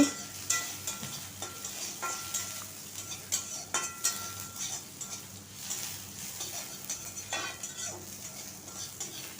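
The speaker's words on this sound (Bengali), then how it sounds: "আদাটাও তেলে ভেজে নেব" Steady sizzling of grated ginger frying in oil in a pan, with scraping and stirring clinks from a utensil scattered throughout, no voices.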